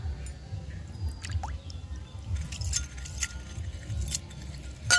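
Imitation jewellery chains are rinsed in a bowl of clean water, giving scattered light drips, splashes and small metallic clinks over a low background rumble, with no talk.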